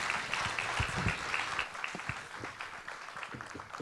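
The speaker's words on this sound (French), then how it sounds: "Donc, encore une grosse main d'applaudissements." An audience at a gala gives a round of applause, a fairly soft, steady patter of many hands clapping with a few sharper claps standing out.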